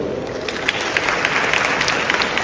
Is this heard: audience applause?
yes